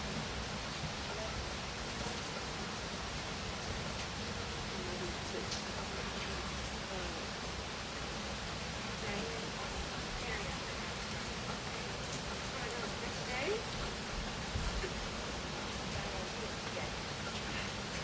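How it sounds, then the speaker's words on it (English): Steady rain, a constant soft hiss of drops falling on surfaces, faint and even throughout without pause, with possible murmured voices in the background. "Because it's raining"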